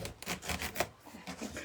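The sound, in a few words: knife cutting a spaghetti squash in half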